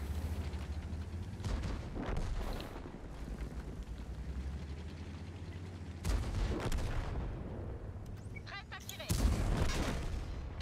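Tank cannon shots in World of Tanks, several booming blasts spread through the clip under gamer chatter, the last one loudest.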